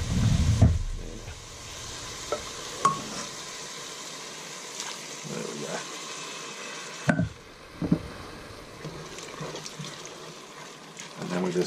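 Tanqueray risotto with stock is stirred in a pan, giving faint wet scraping and gentle bubbling with occasional louder clinks, while a person talks over it.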